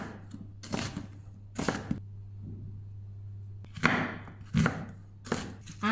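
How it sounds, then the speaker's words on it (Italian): Onions are cut with a knife on a board in short bursts of quick, crisp chops, close and distinct, separated by brief pauses and a low background hum. "E adesso tocca alle cipolle. Non le taglio troppo sottili perché brucierebbero in cottura."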